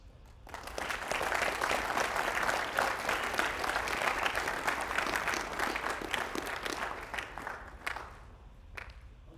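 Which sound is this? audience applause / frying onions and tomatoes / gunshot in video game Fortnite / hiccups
audience applause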